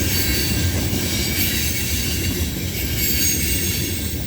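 CN freight train rolling past at night with BC Rail DPU units, steady loud rumble of railcars and wheels with squealing metallic tones throughout, close and continuous with no talk.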